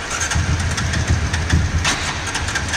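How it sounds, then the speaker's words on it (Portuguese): A Honda Titan 150 motorcycle with fuel injection and a 202cc bore kit, tuned to run on ethanol, starts up and settles into a loud, close, throbbing idle with uneven low pulses. "Vamos funcionar ela. Vamos dar partida."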